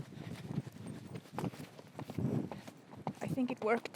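Horse hooves clip-clop in a steady rhythmic canter during a ride, the footfalls close and moderately loud beneath a rider's talking.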